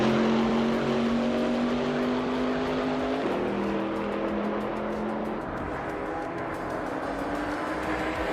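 Racing cars on a track, Lamborghini and heavier GT cars, a continuous engine drone with shifting pitch as cars pass and change gears, steady and fairly loud, with no voices.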